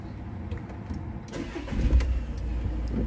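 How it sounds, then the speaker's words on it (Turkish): A car engine, a diesel with a DPF fault, cranks and catches partway through, then settles into a steady idle rumble close by. "Motoru çalıştırın."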